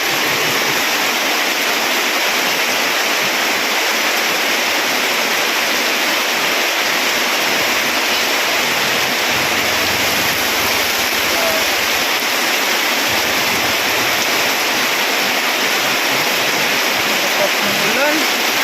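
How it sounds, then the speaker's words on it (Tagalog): Heavy rain pours down in a dense, loud, unbroken roar of hissing water that stays constant throughout. "ang lakas ng ulan"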